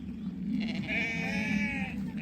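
Lambs bleat in an outdoor lambing field, a couple of close, wavering calls over a low steady background.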